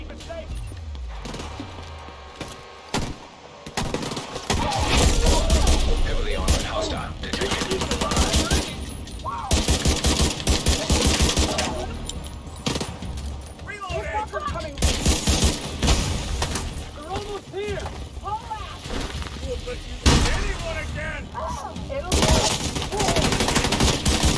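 Sustained automatic gunfire from The Division 2 crackles loudly through most of the stretch in dense bursts, with game sounds and speech mixed over the top.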